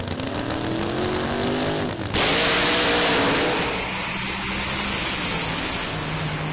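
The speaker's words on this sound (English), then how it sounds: "So Joe Bond in the far lane with the methanol-powered car." A methanol-powered drag racing car at Santa Pod Raceway blasts off down the track with a loud, harsh engine roar that surges suddenly, then fades as it moves away.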